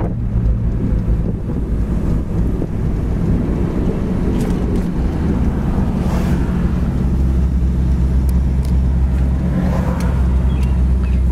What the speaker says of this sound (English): it's going nice and straight down the road, doing 45 mile an hour